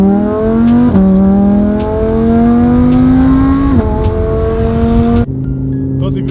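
An Audi R8 engine revs loudly and close, its pitch climbing and dropping in several surges with brief gear-change breaks, then settling toward the end.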